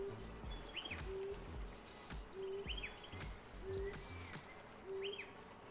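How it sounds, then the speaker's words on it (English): Birds in the calm ambient soundscape of the Spatial virtual world chirp and sing in a steady repeating pattern, with a chirp about every second over a soft, continuous background bed. "You have birds singing and chirping."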